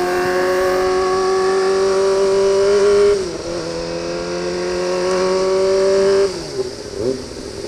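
A Kawasaki ZX25R motorcycle's engine screams loudly at high revs while accelerating, a sustained nasal whine that dips briefly at two gear shifts before climbing again.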